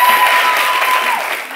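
A quiz show studio audience claps for a team, a dense burst of applause that stays loud and even before tapering slightly toward the end.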